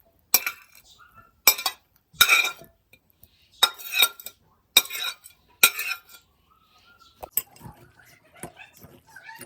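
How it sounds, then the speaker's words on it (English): Pasta being tossed with chopped vegetables in a bowl for a salad, giving a run of close, sharp utensil clinks and scrapes in separate bursts, then quieter rustling. "We mix the pasta with the chopped vegetables"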